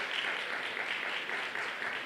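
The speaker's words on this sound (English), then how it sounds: "just a round of applause one more time for the TSU debate team" A short round of audience applause for a university debate team at a conference, a soft, fairly distant patter of many hands clapping steadily.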